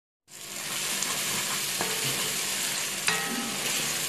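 Tomato sauce for atiéké and fish simmers over low heat in a pan, a steady close sizzle with occasional scraping knocks of a spoon stirring through it, no voices.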